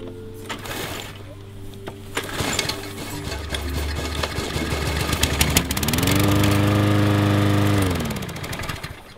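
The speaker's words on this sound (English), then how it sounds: "You have successfully started your mower." Lawn mower engine catching after a pull start, sputtering and rising into a steady, loud droning run close by.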